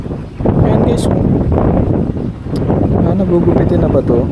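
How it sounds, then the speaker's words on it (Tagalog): Strong wind buffets a microphone on a fishing boat, a loud, gusty roar that rises and dips throughout, with a voice talking underneath. "Kasi ng hangin eh"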